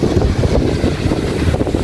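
Strong wind buffeting the microphone outdoors, a loud continuous low rumble with gusty surges and no speech.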